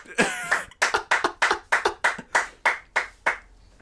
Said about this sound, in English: Round of applause for Roddy Blaze.